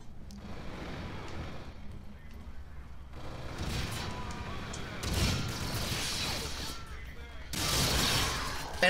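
Gunfire in Call of Duty: Infinite Warfare multiplayer comes in several loud bursts of automatic fire with crashing impacts between them, heard up close against steady battle noise, with no one talking.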